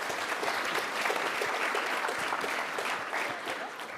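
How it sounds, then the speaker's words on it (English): Steady applause from a seated audience at a business launch event, sustained and dense for about four seconds with scattered claps, easing slightly toward the end. "Can we please give them a big round of applause?"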